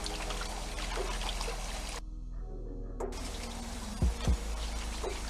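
Collard greens being rinsed in a sink, with steady running and splashing water, a short pause in the flow, then a couple of louder sloshes near the end.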